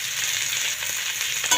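Potatoes, carrots, beans, aubergine and green chilli fry in a hot pan with a loud, steady sizzle and crackle, with faint stirring scrapes near the end and no voices.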